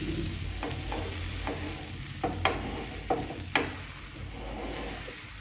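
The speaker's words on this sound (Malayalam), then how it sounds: "ഇതിലേക്ക് നമ്മുടെ ബാറ്റർ നമുക്ക് അങ്ങോട്ട് ഒഴിച്ചിട്ട് കൊടുക്കാം." Cheesy wheat and egg batter poured into a hot pan gives a soft, steady sizzle close up, broken by several light scraping taps as it is spread.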